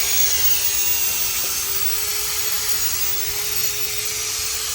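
A steady whirring power tool sanding laminated safety glass grinds continuously with a faint tonal hum, constant in level, with no voices.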